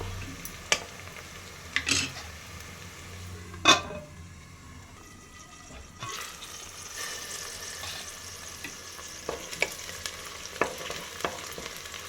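Onions sizzle steadily in hot oil for an Andhra-style mutton curry, with several sharp clinks and scrapes of a spoon stirring against the pan over the continuous frying hiss.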